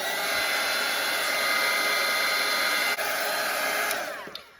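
A hair dryer blowing on a watercolour painting, a loud steady close whir that holds for several seconds, then winds down and cuts off near the end.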